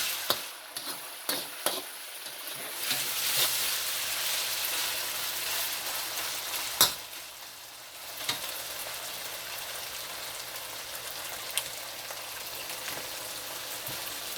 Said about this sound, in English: Just gonna fry up a little bit in here.